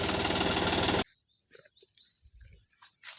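A John Deere 5050D tractor engine with a turbo and its stock exhaust rattles loudly and close by for about a second, then cuts out to a quiet outdoor scene with faint scattered chirps.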